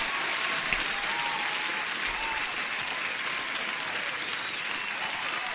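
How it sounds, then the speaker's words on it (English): Continuous, even applause with dense clapping throughout, steady in level and without voices. "Jesus, let me give you an applause."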